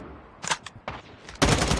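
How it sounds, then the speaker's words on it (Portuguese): Gunfire in the mobile battle royale shooter Call of Duty Mobile, a couple of sharp short bursts followed by a louder, sustained volley near the end, with no talk over the shots. "tem gente dando tiro de snap em você na ponte."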